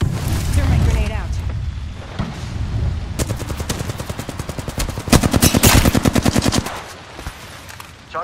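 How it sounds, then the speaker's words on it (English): Rapid video game gunfire crackles in quick automatic bursts, loud and close, with a denser volley toward the end and rumbling battle noise before it. "They're shooting at me!"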